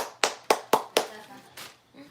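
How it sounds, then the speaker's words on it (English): A few people clapping at a home wrestling watch party, about five sharp separate claps in an uneven rhythm, close and moderately loud, tapering off with faint television sound underneath. "Everybody clap it up."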